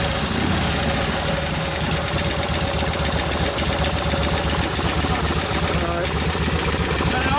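A 1952 Harley-Davidson Panhead with a Linkert carburetor, running steadily after a kick start, giving a loud, close, continuous rough rumble with rhythmic knocking and voices talking over it.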